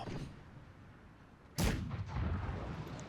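Cannon fire in a Carlist War strategy game: a single loud, sharp boom at mid-clip that rolls into a sustained rumbling echo over faint background battle ambience.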